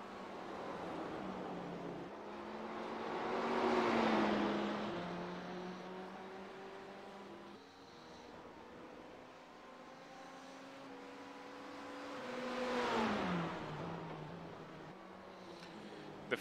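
Ferrari and BMW race car engines in iRacing at Watkins Glen, two steady droning engine notes running side by side, swelling louder around two passes and shifting pitch as the cars ease off and pull away, no talk.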